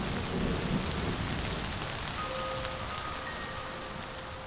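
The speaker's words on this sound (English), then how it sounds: "the rains return." Steady rain falls across the moist savanna of Kruger National Park in South Africa in spring, with a low roll of thunder in the background and a constant hiss of drops throughout.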